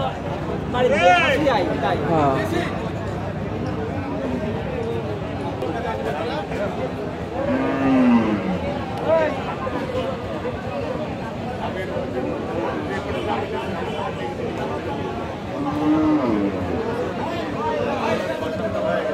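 Several Holstein Friesian dairy cows low with long, drawn-out moos at intervals at a cattle market, over a busy background of people chatting nearby.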